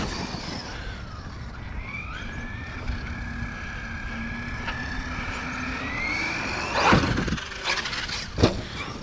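An Arrma Kraton EXB 6S RC car's electric motor whining at a distance, a thin rising and falling pitch over outdoor background, followed by a couple of brief louder bursts near the end.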